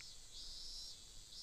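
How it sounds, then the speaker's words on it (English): Cicadas in midsummer drone in a continuous high-pitched chorus that swells and fades slightly, faint and distant, in a quiet visual novel game scene. "I could hear a chorus of cicadas outside"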